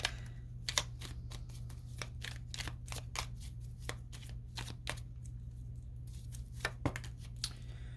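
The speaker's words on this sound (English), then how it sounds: "Let me get the deck shuffled a little bit." Cards are shuffled close up, a run of quick crisp riffling snaps in irregular bursts over a faint low hum, with no talking.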